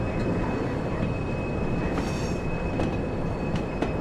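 Simulated train rolling along the Peak Forest line in Train Sim World, a steady broadband rumble with faint wheel clicks and a brief high squeal near the middle, continuous and close, with no talking.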